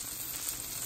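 Steady, bright sizzling of chicken of the woods mushrooms frying in a pan, a continuous close hiss with no pauses or voices.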